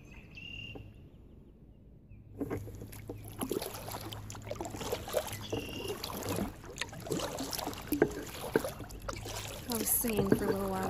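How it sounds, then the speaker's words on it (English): Kayaking on Lower Lake in Pardeeville, Wisconsin: soft paddle splashes and water trickles against an outdoor background of insects and birds, with a person talking over it for most of the time. "this is me kayaking in Partyville, Wisconsin"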